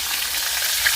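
Fish frying in oil in a pan at a home cookout, a steady close hiss of sizzling fat with faint crackles, no talking.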